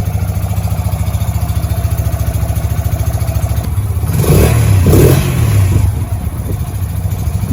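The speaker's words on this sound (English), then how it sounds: "Standard exhaust fitted. Well quiet." A Yamaha YBR125 with its standard exhaust idles with a steady, fairly quiet thrum, then revs up in two short blips around the middle before settling back to idle.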